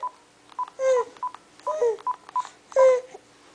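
Telephone keypad dialing tones beep in a steady series of short presses, with a small child's whining, babbling voice in between, close and clear.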